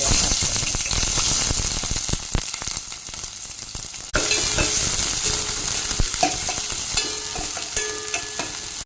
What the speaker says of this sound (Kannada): ಇವಾಗ ಇಲ್ಲಿ ನೀರುಳ್ಳಿ ಫ್ರೈ ಆಯಿತು